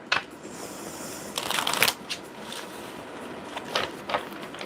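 Tarot cards are shuffled in a few quick riffling bursts, crisp and close, with softer handling sounds between and no talking.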